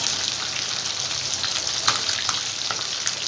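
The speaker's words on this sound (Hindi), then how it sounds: "ये मैं अभी फ्राई करके फिर आपको बताती हूँ।" Chicken tikka pieces sizzling in a pan for restaurant-style tandoori chicken tikka, a steady bright frying hiss with scattered pops and crackles running the whole time, close and fairly loud with no talking.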